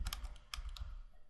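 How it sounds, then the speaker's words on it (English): A few sharp computer keyboard key presses tap out close by in quick, uneven succession, with two or three clustered clicks near the start and a couple more shortly after, alone with no talk. "hit H on the keyboard again to bring back that select window"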